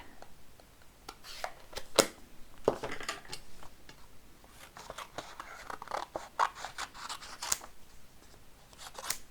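Scissors snip through paper flower shapes in a steady series of crisp, close cuts with small rustles between them, no talking.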